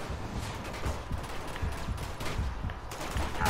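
Gunfire in the Uncharted video game, a dense continuous barrage of rapid shots crackling throughout without a break.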